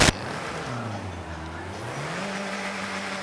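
Old rusted car engine in Forza 5, a steady droning hum whose pitch dips and then climbs again, heard alone with no talk.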